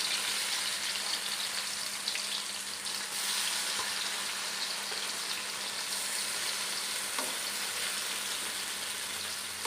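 Pieces of yam fry in hot oil in small batches until crisp, a continuous close crackling sizzle that stays steady and fairly soft for the whole stretch, with a few faint clinks and no talking.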